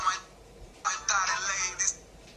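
A telephone rings in short electronic bursts, one brief ring followed by a longer warbling ring and a short final burst, fairly close and clear over a quiet background.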